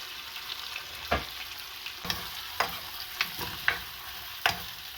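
Saltfish and okra frying in a pan for callaloo, a steady close sizzle broken by about six sharp scrapes and knocks as the mix is stirred.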